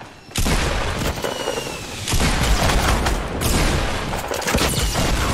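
Rapid rocket blasts in a shooter video game, several loud booming explosions that crash in one after another and keep the racket dense from start to finish.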